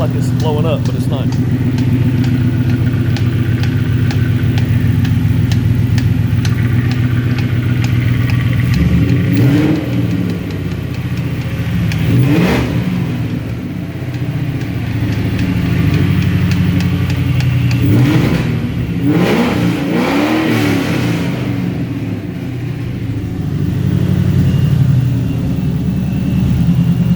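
Straight-piped exhaust on a 2003 V6 Mustang, idling with a steady low rumble, then several sharp revs that rise and fall before settling back to idle, loud and close throughout.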